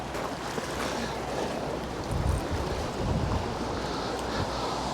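Storm winds of 45 mph and more buffet the shore at Poole Harbour while waves wash in, a loud continuous rush of wind noise with surging low swells and no talk.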